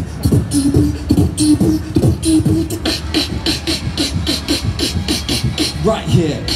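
A London street beatboxer vocally mimics nightclub music as heard from inside, crisp hi-hat-like hisses and punchy kicks in a fast, busy rhythm, with no talking.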